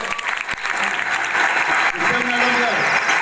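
An audience claps at a Yanam news event, brisk, dense applause running throughout, with voices speaking over it.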